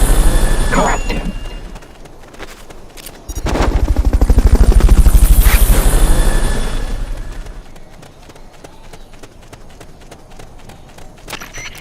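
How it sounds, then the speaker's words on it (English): A helicopter in the video game Metal Gear Solid Peace Walker swells up from quiet into a loud, low rotor thump mid-clip, then fades away, with brief game sound effects around it. "Fulton recovery subject confirmed onboard helicopter."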